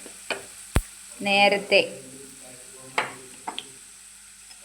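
Curry leaf pickle mixture fries in a pan, with short bursts of sizzling and stirring scrapes among quiet gaps, a brief spoken word heard once.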